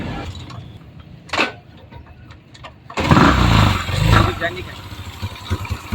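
A motorcycle engine, freshly rebored, is started: after a few seconds of quieter handling noise it catches with a sudden loud burst and settles into a rough, throbbing idle close by.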